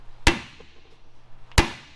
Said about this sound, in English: I'm gonna grab a hammer and do some tapping.